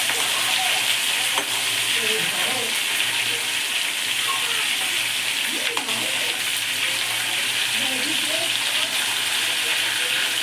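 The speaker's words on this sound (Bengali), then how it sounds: "এবার এটাকে কাঁকড়াটাকে ভাজবো।" Crab pieces fry in a hot kadai with a continuous bright sizzle and occasional stirring scrapes, loud and close throughout.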